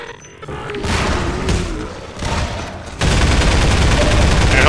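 Loud bursts of gunfire and booming explosions from the video game Half-Life 2 Episode 2, sustained rapid fusillades filling the whole clip with no pauses.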